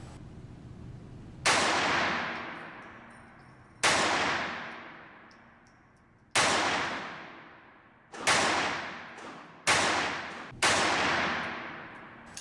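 An Iver Johnson TP-22 semi-automatic .22 pistol fires at a target 25 feet away: six sharp, loud shots with long ringing decays, spaced unevenly over several seconds and closer together near the end.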